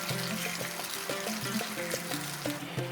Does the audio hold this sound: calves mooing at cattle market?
no